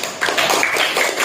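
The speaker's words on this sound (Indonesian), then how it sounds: "Tepuk tangan." Students at an Islamic boarding school gathering clap their hands together for about a second, a dense, steady burst of applause from a group nearby.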